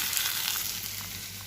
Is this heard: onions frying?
yes